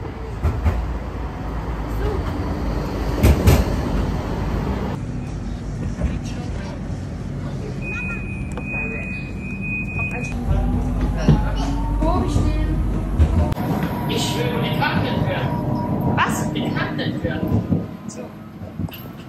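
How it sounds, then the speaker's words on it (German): Steady rumble and rolling hum of a metro train ride in Portugal, continuous and fairly loud from inside the carriage, with a brief tone and shifting noise partway, as people talk over it. "wir können direkt mit der Metro in die Stadt fahren"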